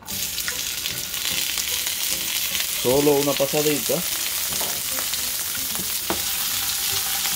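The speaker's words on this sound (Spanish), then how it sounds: "estoy colocando un sartén, estoy poniendo una cucharada de aceite de oliva y voy a agregar mis pimientos" Sliced bell peppers frying in a spoonful of olive oil in a pan give a steady, close sizzle throughout. A brief voice is heard partway through.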